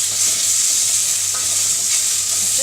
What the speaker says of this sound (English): to that, I'm going to be adding the onion